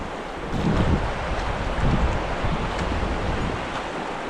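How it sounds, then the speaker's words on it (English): Wind gusting across a lake at Fort Loudoun while kayak fishing, a steady broadband rush with slight swells in strength, buffeting the microphone at close range, no talk. "now the wind kicks up to where I can't fish them"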